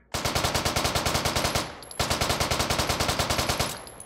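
Rapid automatic gunfire from a hip-fired gun in the VR shooter Hot Dogs, Horseshoes & Hand Grenades, two loud sustained bursts of evenly spaced shots separated by a brief pause.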